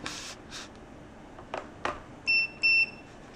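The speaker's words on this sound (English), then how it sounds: "It's gonna beep" A couple of faint rustles and clicks, then two short electronic beeps from a Soyajoy G4 soy milk maker, crisp and close in a quiet room.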